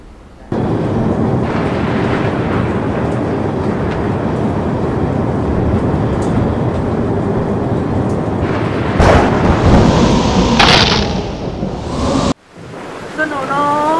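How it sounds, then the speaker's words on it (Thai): Heavy storm ambience in a Thai animation: dense, loud rumbling roar of wind and rain runs steadily, swelling into a brighter crash near the end, then cutting off as a voice starts speaking. "ท่าทางจะมีพายุนะครับ"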